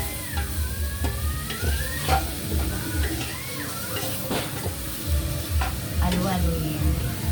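Hotdogs sizzle and crackle steadily in a pan of spaghetti sauce for a noche buena dish, with a spoon scraping and stirring through them in an uneven rhythm, close and fairly loud throughout.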